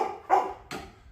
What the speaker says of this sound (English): There's that stray dog. I think it's a wild dingo or something. Hey, pipe down!